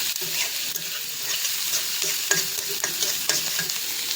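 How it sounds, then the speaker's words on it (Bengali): Onions fry in a pan with a constant bright sizzle, and the stirring adds scattered scrapes and clicks, close and clear with no talk. "পেঁয়াজটা ভাজা হচ্ছে"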